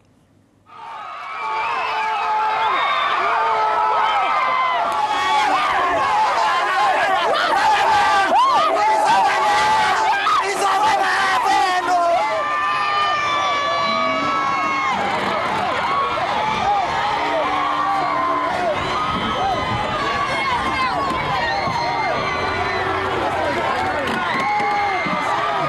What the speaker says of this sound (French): Et sur la ligne d'arrivée, une ambiance folle comme d'habitude.